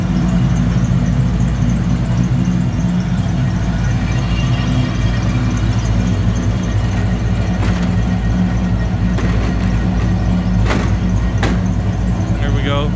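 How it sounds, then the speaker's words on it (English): A 1984 Chevy Monte Carlo SS with an LS engine conversion runs steadily on the road, a loud, constant low engine drone with road rumble and a few brief knocks. "Car drives good down the road."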